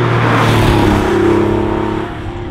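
A Porsche 964 Carrera RS engine drives past with a loud, steady mechanical drone that swells and then slowly fades over a couple of seconds, with no voices.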